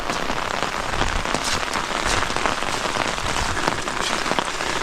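Steady, dense rain falls on a property after a fire, loud and even throughout as a continuous hiss of drops with no speech.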